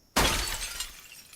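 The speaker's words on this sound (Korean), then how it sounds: "창문이 열리지 않아 덮개로 깨졌습니다" A window pane shattering in the zombie survival video game Project Zomboid, a single loud crash of breaking glass that rings and fades over about a second, with no voices.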